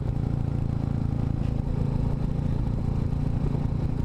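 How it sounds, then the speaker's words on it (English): Royal Enfield Classic 350 motorcycle engine braking, a steady low droning engine rumble with a faint clattering edge, close and continuous without change in level. "I'm engine braking now."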